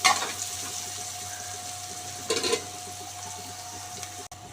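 Onions frying in a pan for a cauliflower masala curry, a steady close sizzle with a faint continuous hum and a brief burst of louder crackling midway.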